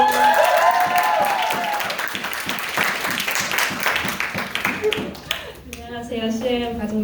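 Applause welcoming a speaker at a church Sunday service: a room full of people clapping steadily, fading out near the end as a voice begins to talk.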